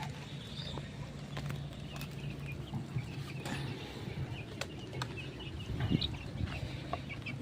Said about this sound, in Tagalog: Ito ang mga sisiw.